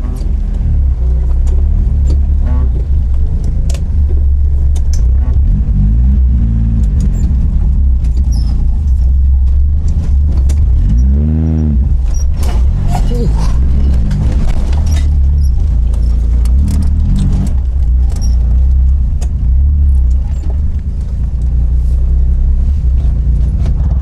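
Subaru Libero van driving through a forest while smoking heavily after an additive was poured in, giving a loud, constant engine rumble and road noise throughout the run.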